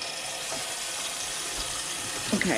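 Water from a kitchen sink faucet runs in a steady, close rush during a leak repair, with a brief voice at the very end.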